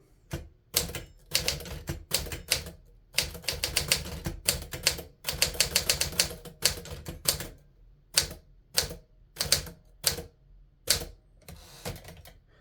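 A pink 1950s Smith Corona Silent Super manual typewriter clacks close up in fast bursts of keystrokes, with short pauses and a sparser run of single strikes near the end.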